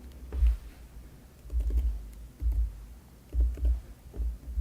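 Soft, quick keystrokes on a computer keyboard come in short bursts with brief pauses between them while contact details are entered, close and fairly quiet with no talking.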